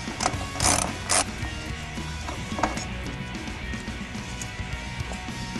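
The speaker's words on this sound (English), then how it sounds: "we can take off these two radiator brackets using the ratchet and a 10mm socket" Ratchet fitted with a 10mm socket loosening radiator brackets on a Honda S2000, a few quick metallic clicking bursts early on, then quieter scattered ticks against a low background.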